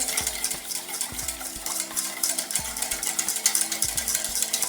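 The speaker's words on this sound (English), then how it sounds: "So we've got everything, let's all whisk it together." Coleslaw dressing with dry mustard powder being whisked in a bowl, a rapid, steady rhythmic clatter of whisk wires against the sides, loud and close with no talk.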